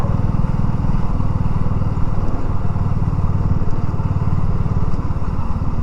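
A motorcycle engine drones steadily and loudly throughout while riding up through a village past old listed buildings, a constant close rumble with no break.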